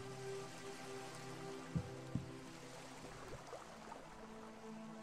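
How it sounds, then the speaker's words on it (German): Rain falls steadily in the video game Elex, a soft continuous patter with a low tonal ambient bed and a couple of faint clicks, quiet and without voices. "Nachdem es eh ein bisschen regnet,"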